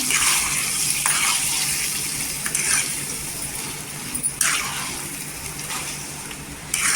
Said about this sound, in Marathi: वाटण टाकल्यानंतर पण 2 मिनिटं परतून घ्यायचं।